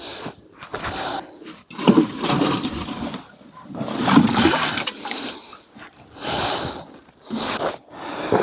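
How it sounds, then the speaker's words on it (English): Rainwater drained from a shed roof pours and splashes into watering cans in several uneven bursts, close by, with gurgling and sloshing between pauses. "the time I save myself filling up my watering cans"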